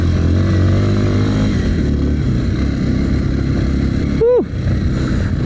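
Kawasaki KLX 230 off-road motorcycle engine running close by with a steady, throbbing idle, then a brief sharp rev that rises and falls near the end.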